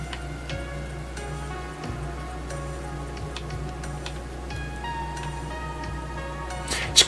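Rain in the video game Ark Survival Ascended patters steadily with soft ticking drops over a constant low hum, ending in a brief louder burst.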